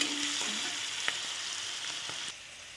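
Sliced radish sizzles steadily in a hot pan, a continuous close hiss broken by a few sharp clinks of a spatula against the metal, the sizzle easing slightly toward the end.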